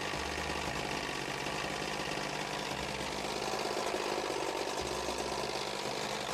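A pontoon boat's outboard engine, recently fitted with a cleaned carburetor, runs at a steady idle with a continuous, even mechanical rumble and rattle, close by and without speech.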